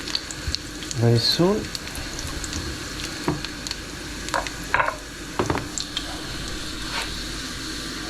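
Garlic frying in a pan of oil for an anchovy pasta, a steady soft sizzle with a few clinks and stirring scrapes, a voice speaking briefly over it.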